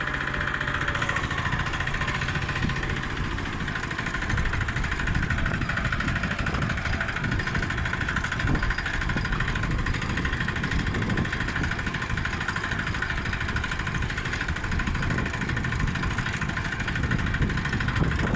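A Sparta25 walk-behind tractor towing a trailer runs in sixth gear, its engine a loud, constant rough drone with steady vibration and rattle lasting the whole stretch, with no talking.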